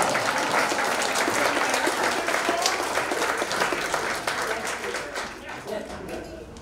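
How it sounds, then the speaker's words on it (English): An audience at an outdoor park concert gives sustained applause for band members. The clapping is dense and steady and fades slightly toward the end. "give them a round of applause"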